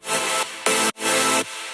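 A loud, bright synth for melodic dubstep, pushed through FabFilter distortion and OTT compression, plays in three sustained bursts separated by brief cuts, with no one talking.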